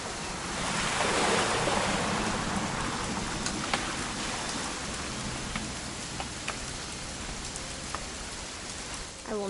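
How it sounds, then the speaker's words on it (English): Rain falling in the video game What Remains of Edith Finch, a steady broad downpour hiss with scattered sharp drop ticks, swelling early and then settling. "It's gonna rain the whole weekend,"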